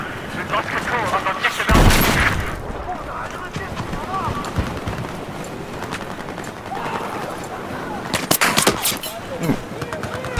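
Battlefield 4 combat fills the scene with scattered close gunshots and bursts of rapid firing, sharp cracks clustered near the start and again toward the end, while someone talks over much of it.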